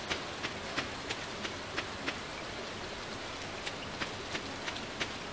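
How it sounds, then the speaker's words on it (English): Steady rain falls in the Stardew Valley video game, a soft continuous hiss with light, evenly spaced droplet ticks, heard alone with no talking. "Okay, it's raining, but still."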